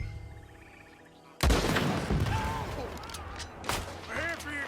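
Gunshots in Red Dead Redemption 2 during a head-on holdup: a sudden loud blast opens a burst of gunfire, with further sharp reports and ringing echoes, under shouting voices.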